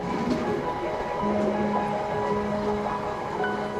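A train rumbles along the tracks with a steady low drone and faint rhythmic clatter, heard from inside with no talking, traveling toward the coast along the Waimakariri River in New Zealand.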